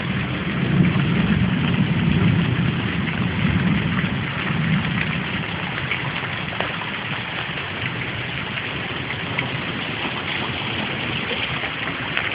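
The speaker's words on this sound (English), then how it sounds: "I'll get struck by lightning. Number two, I'll get rained on" Heavy rain pours steadily during a summer storm, a dense, continuous hiss with a low rumble of thunder rolling through the first few seconds, then the downpour alone.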